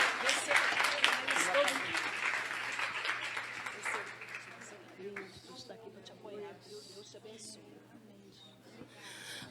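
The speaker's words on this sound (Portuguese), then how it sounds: "Aplauda ao Senhor." Church congregation applauding during a Portuguese-language praise and worship service, a dense spatter of clapping that is loudest at first and thins out over the following seconds, with voices heard as it fades.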